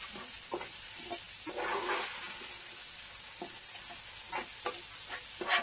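Rice being toasted and stirred in a hot pan for smoky rice, with soft sizzling and scraping bursts that come and go, a longer hissing stretch early on and quicker scrapes near the end, quiet with no talking.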